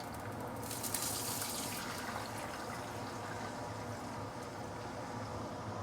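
Water runs steadily into a pan of sautéed ginger and chicken while a chicken broth is being started, with a continuous close splashing and rushing stream that holds an even level throughout and has no talk over it.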